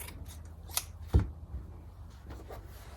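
Scissors make a few short, quiet snips while cutting pieces of vintage linen fabric for a quilt. The cuts are isolated and close, against a faint, otherwise quiet room.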